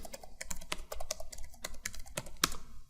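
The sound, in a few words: typing an IP address on a computer keyboard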